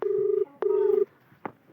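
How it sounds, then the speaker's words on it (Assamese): A phone dials a call with two long, steady keypad tones followed by a brief third beep, quiet and alone. "ফোনটো লগাম।"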